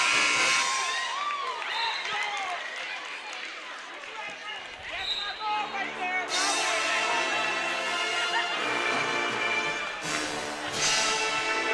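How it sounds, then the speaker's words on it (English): A crowd cheers and whoops at a college men's basketball game in a gym, loud and sustained, with sneaker squeaks and surges of noise throughout. "And the crowd very into it right now."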